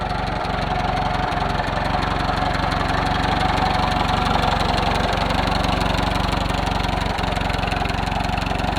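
A 1939 Ford tractor, revived after sitting about twenty years, idles with a steady, low mechanical chug and a few faint knocks, heard up close and continuous throughout.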